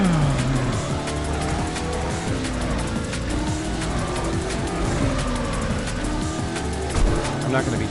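A car drives continuously with tire squeal and skidding over a loud, steady engine, with a brief louder burst near the end.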